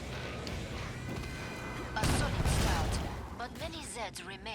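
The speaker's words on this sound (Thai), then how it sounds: "ยิงไปก่อนเลยนะครับปืนนี้ก็ดีอยู่ปืนนึงนะ M79 นะ เอ้า ยิงไปแล้ว" An M79 grenade launcher fires in Killing Floor 2, with a heavy thump and a loud burst of blasts in the middle of a busy game mix as someone talks over the action.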